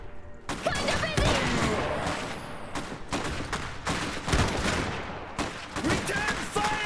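Bursts of gunfire from the Iron Harvest video game, with rapid volleys and heavy impacts nearly continuous and loud throughout, mixed with battle noise and shouted voices.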